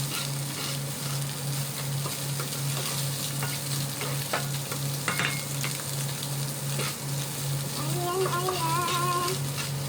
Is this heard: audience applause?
no